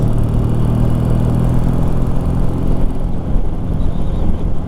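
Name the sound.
Triumph T140 motorcycle riding, engine running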